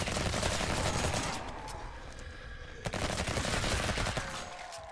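Rapid automatic gunfire from weapons in the zombie video game Revulsion, dense bursts of shots that briefly thin out then resume, loud and sustained.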